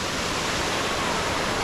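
Kathu Waterfall, a small falls in the Phuket jungle in Thailand, gives a constant broad hiss of falling water, steady and moderately loud with no voices over it.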